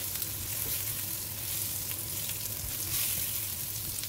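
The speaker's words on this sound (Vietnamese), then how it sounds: "mình sẽ cho vào luôn cái nồi lúc nãy, cái chảo lúc nãy để mình chiên" Sweet potato and luffa slices sizzle in a hot pan with garlic, a steady dense frying crackle with occasional stirring scrapes, close and continuous with no talking.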